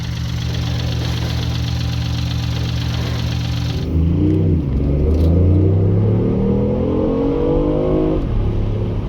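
BMW i8 three-cylinder engine revs hard and close, a steady droning tone rising and falling through several throttle blips, with much of the sound played through the car's speakers; no talk.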